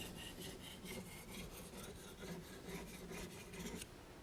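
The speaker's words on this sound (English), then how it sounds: "this ceramic fits in the serrations on almost all kitchen knives, and you just lightly run down through the serrations to take the burr off" Ceramic sharpening rod drawn lightly through the serrations of a kitchen knife to remove the burr, a quiet continuous rasping scrape in short repeated strokes, close and soft.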